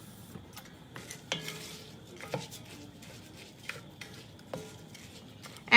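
Chicken curry simmers and sautés in a pan, with a soft sizzle under sporadic clanks and scrapes of a utensil stirring against the metal, a handful of distinct knocks spaced a second or so apart.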